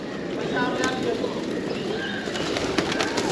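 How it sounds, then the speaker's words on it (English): Pigeons coo around a Buddhist stupa in Nepal, their soft calls mixed into a dense, steady outdoor wash of ambient noise with scattered brief clicks. "Loads of pigeons around, all having a little bath."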